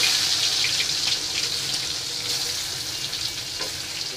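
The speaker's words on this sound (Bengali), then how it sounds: "এখন চিংড়ি মাছগুলি ভাজবো, কড়াইতে তেল দিয়ে দিলাম আর মাছগুলি সব দিয়ে দিই।" Prawns frying in hot oil in a wok give a steady, close hiss and sizzle that holds level for the whole stretch with no one talking.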